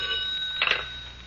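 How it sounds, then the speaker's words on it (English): An old-fashioned telephone rings once in a police squad room on an overnight shift, a short bright ring with steady tones, fairly close and heard alone without voices. "when the phone rang"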